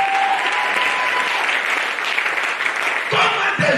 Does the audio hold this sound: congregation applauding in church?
yes